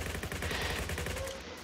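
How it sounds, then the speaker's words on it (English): Rapid gunfire from the Roblox Jailbreak video game, a dense continuous burst of repeated shots filling the whole stretch at steady loudness, with no talking. "Come on, I'm shooting you."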